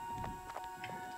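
Hoof steps of a horse in the video game Garden Paws, a few quick soft clops over a steady tonal game background, brief and fairly quiet.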